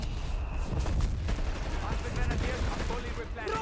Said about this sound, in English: A massive assault rifles, G43s and MG42s there